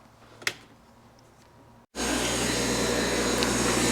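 Metal grinding on the end of a motorcycle control cable for a Yamaha YL2C Trailmaster 100cc: a faint tap, a brief pause, then a loud, steady, close-up grinding roar that lasts to the end.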